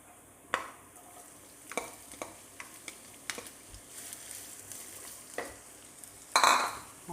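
Onion drops into hot oil with sautéed garlic, giving a steady close sizzle broken by the clacks and scrapes of a spatula stirring in the pan.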